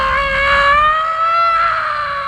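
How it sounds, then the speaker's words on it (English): A single drawn-out scream from the 1998 film Star Trek: Insurrection rings out clearly and alone, high and steady with a slight pitch rise midway. "What the heck is that scream?"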